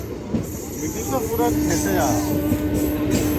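A train pulls out of a station, a low steady rumble with a sustained droning tone and faint squeals rising above it, fairly loud and continuous.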